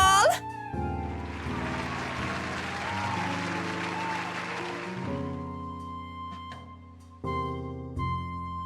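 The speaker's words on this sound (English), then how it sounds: "So give her a hand" A video-game crowd breaks into applause for a sung performance, a broad wash of clapping that swells and fades over several seconds, with music-like tones and a voice underneath.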